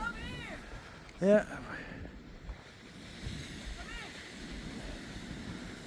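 Wind blows steadily across a beach at Cape Lookout, North Carolina, as a broad rushing noise beneath people talking and a brief high squeak.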